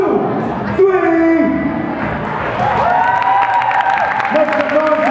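A lively audience at the Soul On Top 2013 show claps, cheers and whoops steadily, with loud voices and shouting mixed through the din from start to finish.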